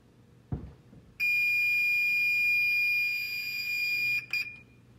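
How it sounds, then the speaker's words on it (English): After a faint knock, an old mechanical oven timer rings: a bright, continuous metallic ringing that lasts about three seconds before stopping abruptly. "This is my ancient oven timer."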